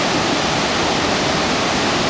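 Waterfall in remote mountain wilderness, a dense, steady roar of rushing water filling the whole stretch evenly with no breaks or voices.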